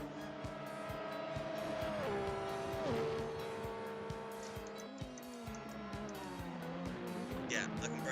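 Formula One race cars in a video game of the 1986 Miami Grand Prix, including a Haas and a Brabham, scream past with high engine whines that drop in pitch through gear changes, loud and continuous, with some tyre noise.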